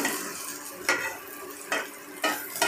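Spicy vegetable filling for a sandwich sizzles in a pan over steady frying hiss, broken by three or four scraping stirs of a spatula, close and fairly quiet.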